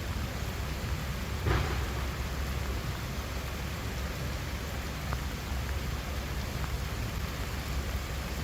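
Steady rain falls over an outdoor walk on a wet day, a constant even hiss of drops close around with no voices.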